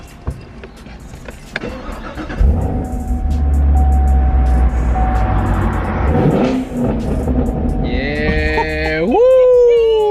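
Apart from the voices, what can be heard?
2018 Chevrolet Camaro SS Redline driving, engine revving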